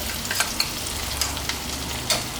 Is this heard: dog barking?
no